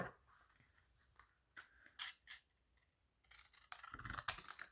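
Scissors snipping through paper while making a scrapbooking paper bow, a few quiet separate cuts followed by a louder burst of crisp rustling and crunching near the end.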